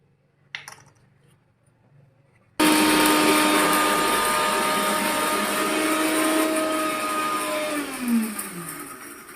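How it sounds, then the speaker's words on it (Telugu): A mixer grinder blending onions and tomatoes starts abruptly after a brief quiet clatter, whirring loudly and steadily, then its pitch drops as the motor slows near the end. "ఉల్లిపాయలు టమాటాలు వేసి మొత్తం అన్ని మిక్సీ పట్టేసుకోవాలి"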